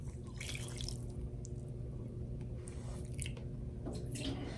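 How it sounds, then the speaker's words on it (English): Half a cup of beef broth, made from bouillon and water, is poured into a pan of oil during home cooking, giving soft trickling and dripping splashes over a low steady background hum. "And then I'm going to add a half a cup of beef broth."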